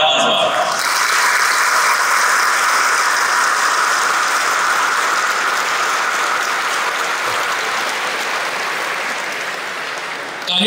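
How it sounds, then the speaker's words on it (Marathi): An audience of young people at a birthday celebration event bursts into loud, sustained applause, a dense wash of clapping that holds steady for about ten seconds before tapering slightly at the end. "तरुणांना माझी विनंती आहे की जोरदार टाळ्या वाजवा"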